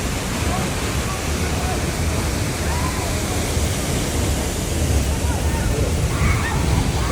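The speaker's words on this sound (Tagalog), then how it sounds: "Sobrang lakas ng tubig." Powerful waterfall on Camiguin Island, a loud, continuous broadband roar of heavily rushing water, dense and steady throughout with no pauses.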